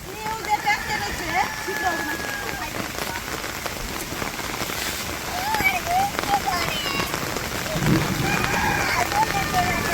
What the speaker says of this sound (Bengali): বৃষ্টি নেমে আরো একেবারে ভেজাল বাজাইছে